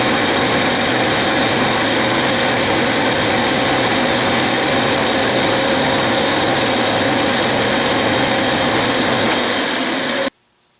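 South Bend lathe with a #814 milling attachment taking a cutting pass, a loud continuous mechanical whir and cutting hum holding steady for about ten seconds before stopping, close up with no talk.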